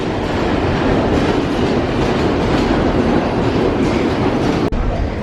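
Sri Lankan passenger train running with a steady loud rumble and clatter of rolling wagons throughout, heard from inside a crowded carriage, with a brief sharp knock near the end.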